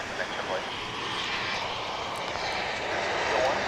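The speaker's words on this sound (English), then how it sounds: "This is an American Airlines flight from Austin," An American Airlines Boeing 737-800 jet airliner roars steadily overhead at DFW International Airport, a broad, loud engine rush that swells slightly toward the end.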